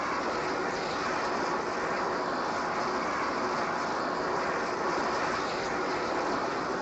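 An aircraft taxiing in the video game ARMA 3, heard as a steady, broad engine roar that holds constant throughout with no breaks.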